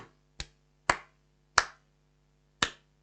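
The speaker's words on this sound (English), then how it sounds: "Slow clap to me." Four slow, separate claps from one person on a live stream, close and crisp, each followed by a short decay, with long gaps between them.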